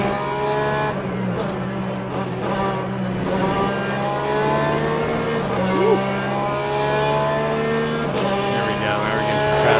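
Race car engines in Le Mans Ultimate at Sebring, several cars droning and revving steadily throughout with shifting engine tones as traffic approaches, a continuous loud mechanical roar with a person talking over it.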